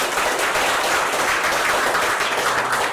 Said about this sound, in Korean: 우리 박수로 예수님께 영광 드리겠습니다